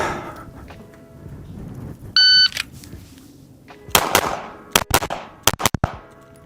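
During carry optics competitive shooting practice, a short electronic timer beep sounds, then a pistol fires about seven loud, sharp shots close by, in quick uneven pairs and bursts.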